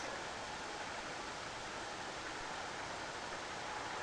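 A waterfall at Bonito, Brazil, gives a steady, dense rushing roar that holds evenly throughout, with no talking over it.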